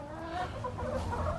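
Backyard chickens in winter clucking in a steady, close, busy chorus of overlapping low cackles and murmurs, with no human voice.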